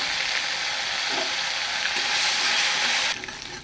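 Ginger garlic paste and turmeric sizzle in a hot pan for Kashmiri aloo, a loud dense hissing fry that holds steady and then drops in level near the end, with no voices.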